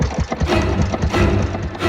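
A door handle in the horror game Tiny Bunny rattles and clicks frantically, a dense run of loud, quick mechanical clatters layered over a dark, rumbling ambience.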